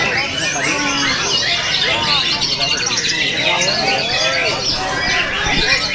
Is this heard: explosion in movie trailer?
no